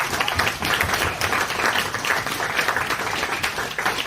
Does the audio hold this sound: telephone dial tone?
no